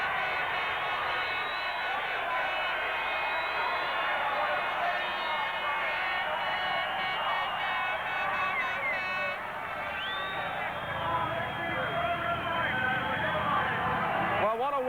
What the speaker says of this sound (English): the Blackburn Road crowd are in raptures